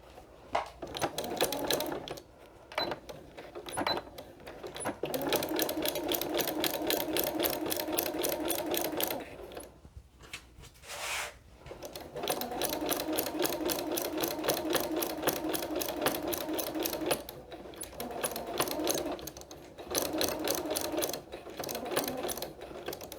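Sewing machine back stitching a place mat, close mechanical whirring in a few long runs broken by brief stops, no talk.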